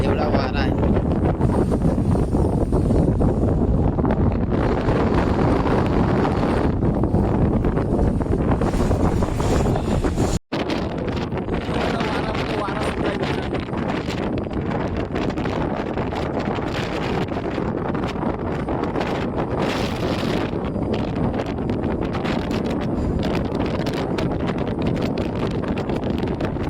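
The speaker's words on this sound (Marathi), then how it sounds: "एवढा वारा आहे ना की मोबाईल सुद्धा मला पकडायला जमत नाहीये आणि माझा आवाज सुद्धा याच्यामध्ये येत नसेल" Strong wind buffets a phone microphone on a cargo ship's deck in bad weather, a loud, continuous roaring rumble for the whole stretch with one brief dropout; a voice is faintly present under the gusts.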